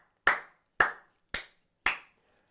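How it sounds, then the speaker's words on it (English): Four sharp, separate hand claps from a single person, evenly spaced about half a second apart, close and clear against silence, during a casual live stream. "Round of applause."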